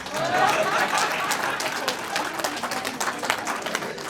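A burst of applause from a crowd, dense clapping that thins out over a few seconds with some murmuring underneath.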